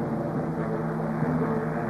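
American transport helicopter of the early Vietnam War era, a steady, droning engine and rotor hum that holds constant and fairly loud throughout, with no voices.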